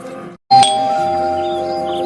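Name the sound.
doorbell ringing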